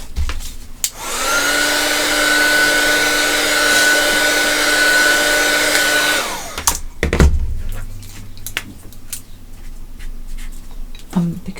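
A hair dryer blows loudly and steadily for about five seconds to dry paint on a mixed media artwork, then cuts off abruptly, followed by light handling clatter and small knocks.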